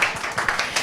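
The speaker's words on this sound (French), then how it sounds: "sous vos applaudissements" Audience applause at a French conference session on species interconnection and climate change, a brief burst of many hands clapping at once, steady and fairly close.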